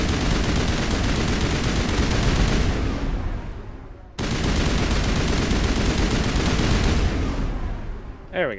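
Sustained, dense gunfire in the video game Mass Effect, a loud continuous barrage that breaks off briefly at about four seconds, resumes and then tapers to quiet at the end, with no talk.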